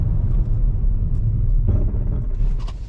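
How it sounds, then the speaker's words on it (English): A 2022 Chevrolet Trax LT AWD braking hard from 50 mph: steady low road and tyre rumble that eases off as the car slows, with no voices. "We're going to do an emergency stop, and we'll see how this car stops from 50 miles an hour"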